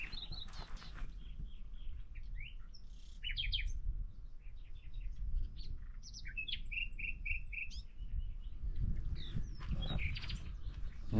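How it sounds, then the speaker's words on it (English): Birds sing at a quiet countryside spot in Portugal, with bright chirps and warbling phrases repeating near and far over a soft low background murmur, no voices. "All you can hear is birds singing."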